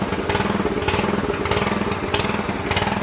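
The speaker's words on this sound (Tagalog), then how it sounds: "Naganon nung palya yung makina." The small engine of a Jetmatic water pump runs loud and close with an uneven, rough chugging pulse and periodic stumbles as it misfires, heard alone without talk.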